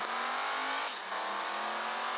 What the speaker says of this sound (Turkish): arabanın motor sesi efsane ya